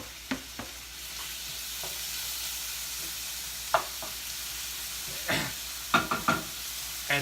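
Tomato going into a pan for meat sauce, with a steady soft sizzle of cooking underneath and a handful of sharp stirring knocks and scrapes of a utensil against the pan, mostly near the end.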